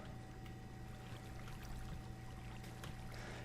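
Flowing water in the Minecraft video game, a soft, steady trickling and pouring stream with faint tonal hum underneath, low in level and with no speech.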